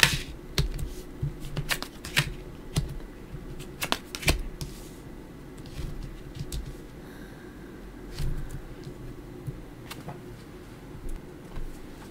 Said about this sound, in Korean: 타로 카드 열어볼게요